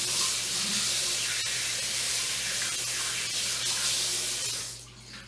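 Tap water runs steadily as something is rinsed off during soap-style making with fragrance, a continuous close hiss of flowing water that tapers off near the end.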